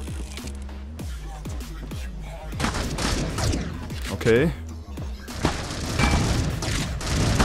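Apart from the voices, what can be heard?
gunfire in Critical Ops video game, shotgun and AK47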